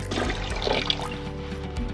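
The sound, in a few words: cold water rinsing teeth whitening trays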